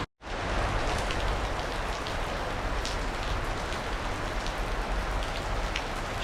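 Steady rain falls heavily, a dense, even hiss of drops on hard surfaces that starts abruptly after a brief silence and continues without pause.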